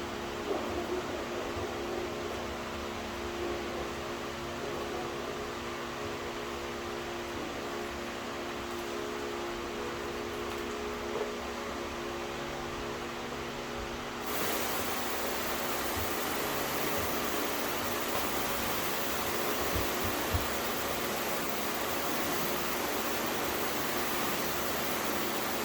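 Water spray rinsing wheel brightener residue off a car wheel, a steady hissing wash of noise that grows louder and brighter midway as the spray moves closer, with no talking.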